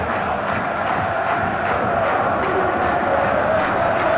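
A stadium crowd at a Chelsea versus Benfica FIFA Club World Cup 2025 round-of-16 football match roars in a loud, continuous wash of cheering and chanting, with rhythmic clapping pulses running through it.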